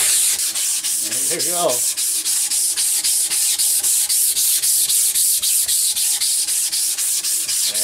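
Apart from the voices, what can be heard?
sanding wooden axe handle with sandpaper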